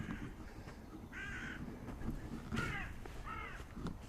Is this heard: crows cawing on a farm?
yes